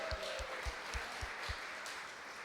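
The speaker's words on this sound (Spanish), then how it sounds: "un aplauso para los diseñadores y los que trabajaron en eso." Applause from an audience for map designers, fairly faint and distant, with a steady wash of clapping and a few sharp low thumps near the microphone.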